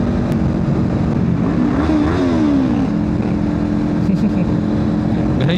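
Kawasaki Ninja 400 inline-twin motorcycle engine accelerating on the road, a loud steady drone with rising pitch sweeps and wind rush, recorded close from the rider's position.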